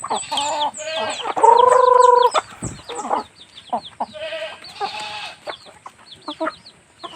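Several chickens cluck and cackle nearby in uneven bursts, with one longer, louder call early on and scattered clucks continuing throughout.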